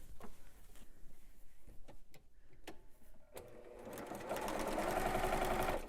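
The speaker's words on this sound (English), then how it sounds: "So I'm just going to sew these two pieces together." A sewing machine stitches two improv-pieced quilt-as-you-go sections together, first with scattered clicks and short runs, then settling into a loud, steady whirring hum for the final seconds.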